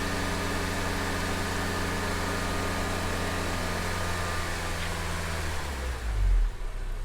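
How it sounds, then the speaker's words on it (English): Honda Civic radiator cooling fans whirring steadily near an idling engine, a constant broadband hum that fades as the fans wind down at the end. "There's the fans just went on at 212."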